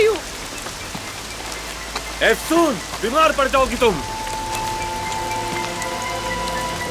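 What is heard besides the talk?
rain falling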